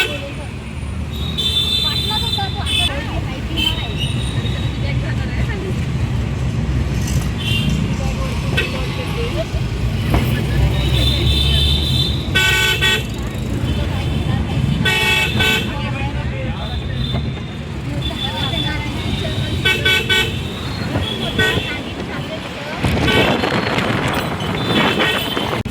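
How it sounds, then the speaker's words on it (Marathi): Heavy city traffic from inside a taxi, a steady dense roar of engines and passing vehicles with repeated horn toots throughout, while people talk over it. "गर्दी बघा किती आहे, बेफाट ट्रॅफिक आहे."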